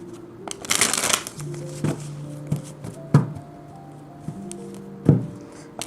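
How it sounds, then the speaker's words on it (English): Tarot cards being shuffled by hand in a quiet room: soft riffles and slaps with sharp taps at irregular intervals, over a low steady hum. "I'll just shuffle the cards."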